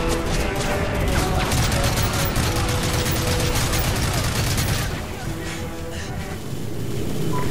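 Dense, sustained gunfire in Call of Duty: Modern Warfare 3 is a loud, continuous fusillade of rapid shots layered with mechanical clatter. It eases briefly near the end, then picks up again.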